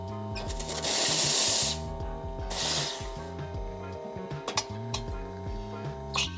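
An espresso machine steam wand hisses loudly in two bursts while aerating milk, the first long and the second shorter, followed by a few soft clinks and a low rumbling hum.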